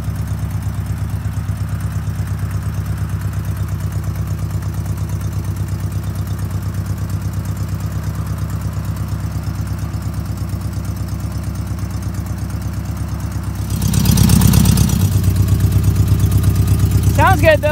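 A 1962 VW Beetle engine idles in a steady, close low rumble, swelling briefly louder as it revs near the end.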